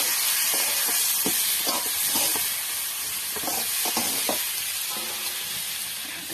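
Green banana frying in hot oil alongside bitter gourd, with a loud, continuous hissing sizzle and a few soft knocks from stirring, close by.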